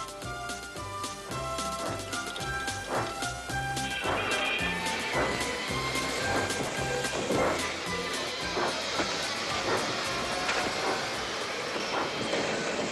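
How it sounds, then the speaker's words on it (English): Toy steam engines puffing hard as they haul a train back onto the rails, with steady rumbling and clattering, rhythmic chuffs and hissing over dense background music throughout. "Donald and Douglas, puffing hard, managed to haul Thomas back to safety."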